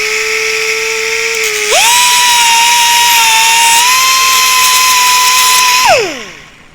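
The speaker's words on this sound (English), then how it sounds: "So first thing you want to do is grind that nub off" A power grinder whirs steadily while grinding a plastic nub off a Harley-Davidson speaker lid, its pitch rising as it bites in, holding for several seconds, then winding down. The grinding is loud and close, with no talk.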